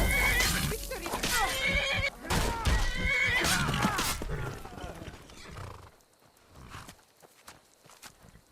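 A horse in the fantasy video game Skyrim whinnies amid a dense jumble of in-game combat noise and hoof clatter, the din thinning to quieter ambience near the end.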